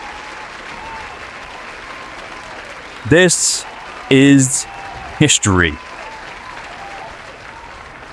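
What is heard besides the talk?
crowd cheering and applauding after hockey cup final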